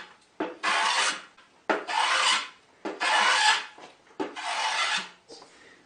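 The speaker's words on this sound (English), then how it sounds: "I've got some sharp edges now, so I'll chamfer those." Wooden table part having its sharp edges chamfered by hand with a rasp, four long rhythmic scraping strokes with short pauses between, close and loud with no talk.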